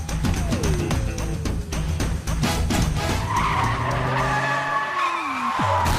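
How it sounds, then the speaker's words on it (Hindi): A car skids loudly in a Bollywood action film scene from Thank You, with tires squealing in falling tones over engine roar before it crashes into another car. "अबे अपनी गाड़ी ठोक दी।"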